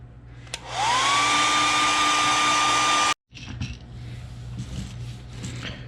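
An airbrush or hair dryer blows a steady, loud, close whine to dry the paint on a blue shad fishing lure. It runs for about two seconds, then cuts off abruptly, leaving quieter workshop noise.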